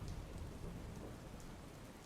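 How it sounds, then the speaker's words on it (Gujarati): Rain showers fall across villages near Savarkundla in Amreli, on Saurashtra's coastal belt, as a dense, continuous hiss with a low rumbling undertone, steady and unbroken, with no voices. "સૌરાષ્ટ્રનો જે દરિયાઈ પટ્ટો છે ત્યાં પણ વરસાદ વરસી રહ્યો છે"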